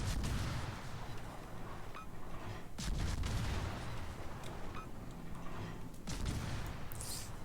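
Video game gunfire aimed at the player, with dense rumbling volleys of distant shots and booming artillery-like blasts forming a continuous battle din, with a few louder cracks standing out.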